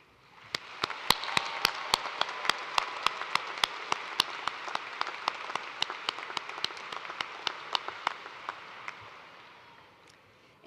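Steady applause fills a university commencement hall for about ten seconds at the University of Toledo spring 2023 ceremony. Sharp, close claps ring out in a regular rhythm over the crowd's diffuse clapping, which then dies away.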